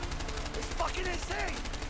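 Rapid automatic gunfire from the video game A Way Out rattles in quick repeated bursts, fairly loud, while a voice talks over it.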